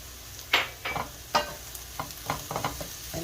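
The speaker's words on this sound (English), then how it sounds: "Okay, so we're just going to saute this for about 3 minutes, and then we'll add the garlic." Chopped garlic from two large cloves sautés in a pan, a soft sizzle under several distinct scrapes and taps of a utensil stirring, close and fairly quiet.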